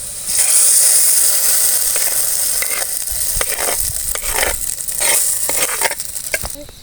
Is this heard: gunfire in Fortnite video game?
no